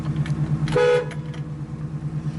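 Horn of a 1967 Chevrolet Camaro SS sounds one short, loud, steady toot lasting about a quarter second, with engine or background hum running before and after.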